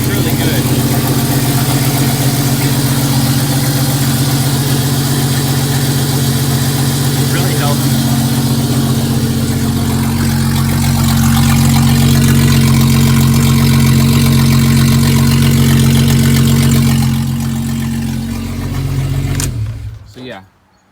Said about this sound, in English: Here, I'll turn it on for you. It's got no exhaust right now, so it's a little loud.